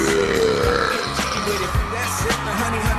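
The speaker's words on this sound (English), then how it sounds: "The Kids' Choice All-Star Celebrity Burp Off is coming up next." Celebrity burping at a Kids' Choice Awards burp-off contest on stage, a series of loud, drawn-out belches with crowd noise and music behind them.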